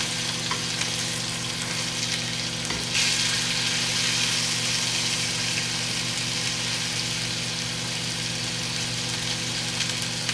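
Steaks sizzle steadily in a hot pan over high heat with a little garlic, a loud continuous close frying hiss with a brief clatter as they are flipped, and no talk.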